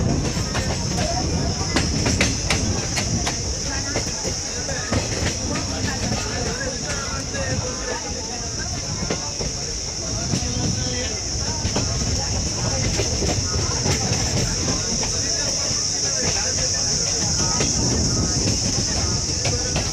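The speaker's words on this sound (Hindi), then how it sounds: "तो अभी हमारी ट्रेन इंटर कर रही थी मानवत रोड रेलवे स्टेशन पर" Train pulling into Manvat Road railway station, with a steady rumbling roll and rhythmic clatter of wheels over rail joints, under a high constant whine and intermittent speech.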